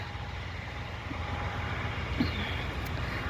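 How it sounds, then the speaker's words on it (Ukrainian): A tractor in a village drones with a steady, low engine rumble that holds constant throughout, moderately loud and unbroken, with no talking. "Що там за трактор такий?"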